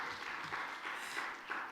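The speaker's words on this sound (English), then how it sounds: "Please, a round of applause for the MC." Brief, faint applause from a conference audience for the MC at a keynote event, a soft wash of clapping.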